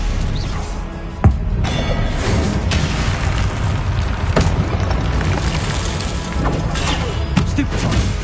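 Confringo spell blasts in Hogwarts Legacy: a sharp booming impact, then a rumbling, crackling barrage of further explosive bursts and crashes that continue loudly throughout.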